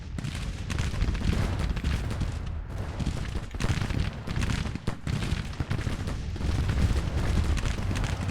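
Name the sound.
Union artillery and gunfire in video game Grand Tactician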